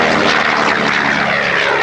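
A propeller airplane flies at the 1989 Red Deer airshow, its engine a loud, continuous drone that stays steady and close throughout, with no voices over it.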